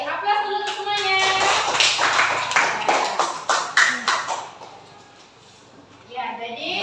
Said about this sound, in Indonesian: Aplaus dulu untuk semuanya.